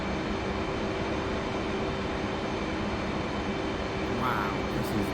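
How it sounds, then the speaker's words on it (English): An F/A-18 Hornet jet in the DCS flight simulator flies over Nevada, its engines a steady, broad roar that drones on evenly without a break. "All is well in the F18 Hornet."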